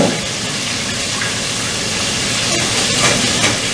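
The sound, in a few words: deep frying in hot oil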